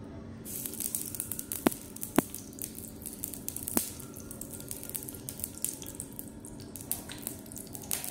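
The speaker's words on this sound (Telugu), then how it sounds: "ఇప్పుడు ఆయిల్ వేసుకుందాము." Oil poured into a heated miniature pan while cooking, giving soft liquid trickling and light sizzling crackle with a few sharp clinks, close and quiet, no talking.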